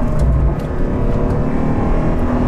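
A 2015 Porsche Panamera GTS engine drones loud and steady from inside the car, a deep sustained engine hum without a clear rise in pitch.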